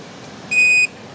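A single short electronic beep, bright and steady for about a third of a second, sounds clearly over a quiet background hiss.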